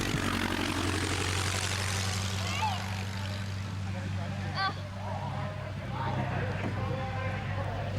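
The propeller engine of an animated Curtis Jenny biplane drones steadily throughout under busy cartoon sound effects and a voice speaking.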